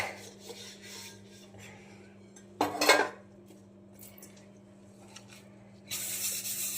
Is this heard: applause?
no